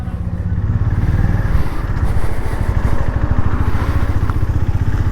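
A Honda Highness motorcycle rides off, its single-cylinder engine thumping in a steady, loud, close rhythm that stays constant throughout, with no talk over it.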